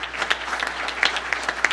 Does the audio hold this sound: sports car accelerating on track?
no